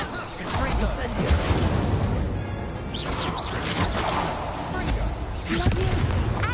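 Incendio fire spells and Levioso levitation spells cast in the video game Hogwarts Legacy: repeated booming, crackling magic blasts in quick succession, continuously loud, with a voice talking over them throughout.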